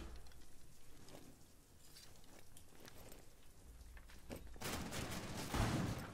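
Gunfire in the tactical shooter Rainbow Six Siege, a steady crackling spray of shots at moderate distance that grows louder and denser toward the end, with no voices over it.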